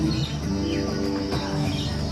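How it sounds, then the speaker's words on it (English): Birds from around the world chirp and call steadily at moderate volume over a continuous background hum, with soft cooing and tweets overlapping. "magnificent birds from all around the world"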